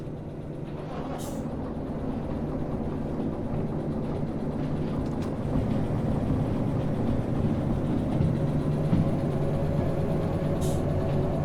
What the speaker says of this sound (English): I'll get the other locomotive started up so it can help out too.